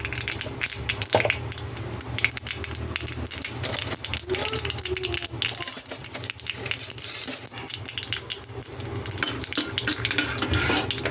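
Peanuts tossed into hot oil with popping mustard seeds, sizzling and frying steadily with occasional stirring clatter, a continuous close crackle throughout.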